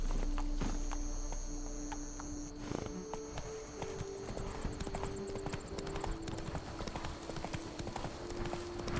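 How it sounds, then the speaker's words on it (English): Horse hooves clip-clopping in The Witcher 3: Blood and Wine video game, a steady close trot on hard ground with a soft ambient background and a faint voice. "Whoa there, Roach."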